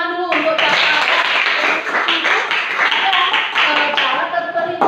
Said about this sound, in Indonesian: Tepuk tangan dulu untuk Cakra.